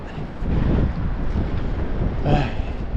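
Strong wind buffets the microphone in a steady roar at the seashore at low tide, with a faint wash of surf beneath it.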